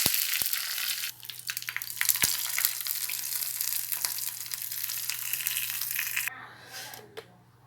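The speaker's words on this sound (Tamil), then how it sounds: "தேங்காய் எண்ணெய் தான் ரொம்ப நல்லாயிருக்கும். கடுகு, உளுத்தம்பருப்பு, கடுகு பொரிஞ்சதும் வத்தல், காஞ்ச வத்தல் 2, கருவேப்பிலை." Mustard seeds, urad dal, dried red chillies and curry leaves crackling in hot coconut oil for a Kerala-style pineapple buttermilk curry, a fairly quiet continuous sizzle with a few sharp pops, fading near the end.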